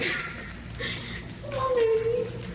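A service dog in training whimpers with a thin, rising whine near the end, over a steady background of broadcast noise and a voice talking.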